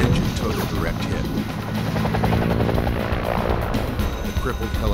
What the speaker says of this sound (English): The crippled helicopter might not make it to the ship waiting offshore.